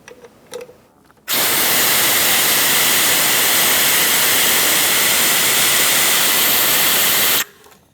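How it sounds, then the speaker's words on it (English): A fluid extractor pulls brake fluid from the master cylinder reservoir of a 2012-2020 Chevrolet Sonic, giving a loud, steady hissing suction rush that starts abruptly, holds for about six seconds and cuts off sharply. "We're going to use a fluid extractor and remove most of the brake fluid from the reservoir."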